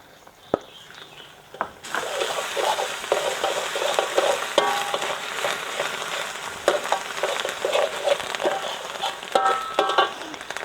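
Preserved radish being stir-fried in caramelized sugar in a pan, a steady crackling sizzle with scraping stir strokes that begins abruptly and continues loud and close, no talking.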